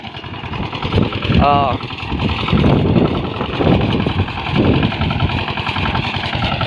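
Tractor engine chugging steadily nearby with a rough, rattling idle, while a voice talks over it for most of the stretch.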